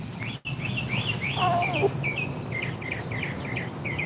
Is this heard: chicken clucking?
yes